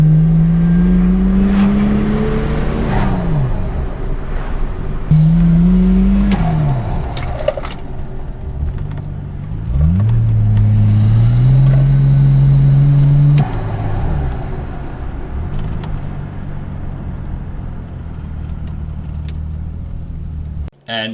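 A VL turbo conversion car drives down a street, its engine droning steadily with rising and falling revs through repeated gear changes, loud and close throughout.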